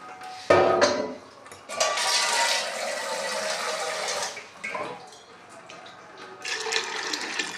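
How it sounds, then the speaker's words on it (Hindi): Water pours into a pressure cooker pot holding black chickpeas, a close, steady splashing rush that starts abruptly, runs for several seconds, briefly eases and then resumes. "अब डालेंगे इसमें पानी।"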